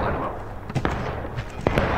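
Musket volleys in War of Rights, the video game: a few sharp cracks and thuds, scattered irregularly over a steady background din, with some distant and some closer.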